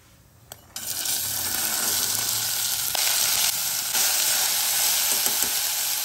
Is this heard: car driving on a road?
no